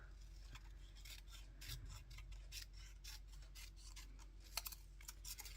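Scissors snipping through paper for a collage, a quiet run of crisp, repeated cuts and rustles at close range, with no talking.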